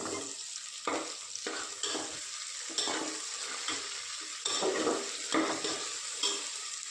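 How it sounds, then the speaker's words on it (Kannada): Potatoes frying with onion and tomato in a pan for bataté bhaji, a soft sizzle punctuated by about ten scraping stirs of a spatula, near but fairly quiet, no one talking. "ಫ್ರೈ ಮಾಡ್ತೀವಿ ಅದಕ್ಕೆ ಬಟಾಟೆ ಆ್ಯಡ್ ಮಾಡ್ತೀವಿ"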